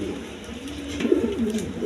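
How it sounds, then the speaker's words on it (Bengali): A barren pigeon sitting on its nest with two down-faced chicks coos in low, throaty, rolling warbles that swell in the second half, close and moderately loud over faint background hiss. "বাঞ্জা কবুতর এটা"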